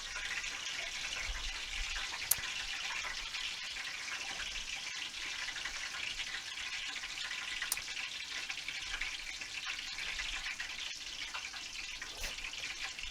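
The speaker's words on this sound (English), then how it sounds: "You just hear that oil, so you just gotta be careful because you don't want to get burned." Frybread dough frying in a pan of hot oil, giving a steady bright sizzle throughout with a few sharp pops, close and fairly quiet, with no talking.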